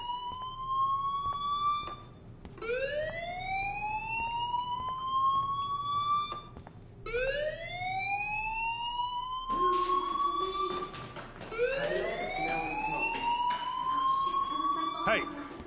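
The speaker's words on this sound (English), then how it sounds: "do you hear that fire alarm? That means you should be outside." A fire alarm in the video game Life Is Strange repeats rising, whooping siren sweeps, each lasting about two seconds with brief gaps, loud and continuous, with a voice talking over it in places.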